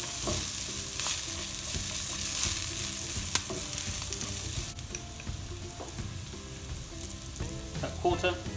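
Dry red chilies frying in hot oil for saag bhaji, giving a continuous close sizzle with occasional stirring clicks and scrapes, easing slightly partway through.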